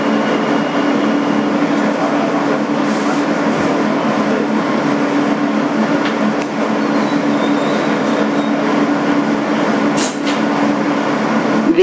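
A 2008 Kawasaki R-160B subway car, #8842, rolls along the BMT Sea Beach line as a Court Street-bound N local, a steady loud interior roar with a hum, light clatter, and a brief squeal near the end.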